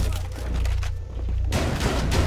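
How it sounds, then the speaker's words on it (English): Gunfire in Rainbow Six Siege as the operator Frost shoots through a barricade, a dense, loud burst of rapid shots with a brief lull in the middle before the firing resumes close by. "She's shooting through the barricade."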